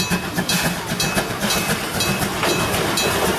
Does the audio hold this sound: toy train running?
yes